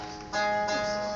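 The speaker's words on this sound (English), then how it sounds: "What you hear is that I prepared this string with metal." A single plucked string prepared with metal and alligator pins rings with a buzzing, metallic rattle, then a second pluck follows; short and fairly quiet, with no voices.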